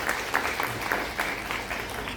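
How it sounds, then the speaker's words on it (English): An audience at a Bharat Electronics Limited event applauding a speaker, a moderate, fairly even patter of many hands clapping heard from a distance. "A round of applause for it."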